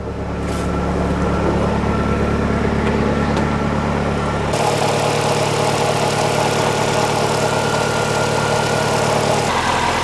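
A Ford Escort RS Cosworth, a low-mileage new-old-stock car with a roll cage, idles steadily while warming up, a continuous close engine drone with a shift in tone partway through and no talk.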